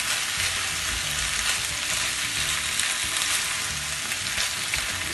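Potatoes fry with the white bulbs of spring onions in a pan for an Indian sabji, giving a steady, close, dense sizzle that holds evenly throughout with no voices.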